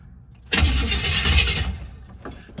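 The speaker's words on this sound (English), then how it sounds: "She cranks with gusto now." A 1969 Buick Skylark engine cranks vigorously after a quiet moment, a loud, close whirring burst lasting about a second and a half before fading, with no voices.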